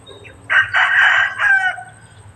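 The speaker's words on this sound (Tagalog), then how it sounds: "Mga manok." A single loud rooster crow rings out close by, rising and holding before trailing off, with a faint low hum underneath.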